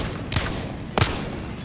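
Two sharp Wingman pistol shots in a video game, spaced about half a second apart, each a loud cracking blast over a steady noisy background.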